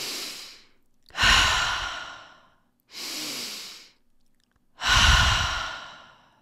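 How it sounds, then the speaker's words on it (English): Forceful activating breathwork: two cycles of strong, rushing inhales and exhales, close and loud, each breath lasting about a second with short pauses between, and no speech. "there's a nice forceful inhale and a nice forceful exhale"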